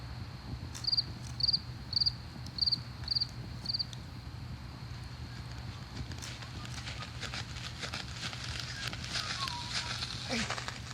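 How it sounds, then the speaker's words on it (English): Crickets chirp at night beside a campfire, a series of short, evenly spaced trills standing out clearly early on over a low steady background hum, followed by faint crackling. "a little bit of sounds of the nature that I'm in right now, the campfire and the crickets going"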